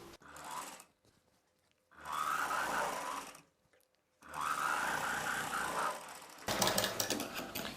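A sewing machine stitches the folded lining of a long blouse in two separate runs with a pause between them, steady and close, followed by a brief burst of handling noise at the end.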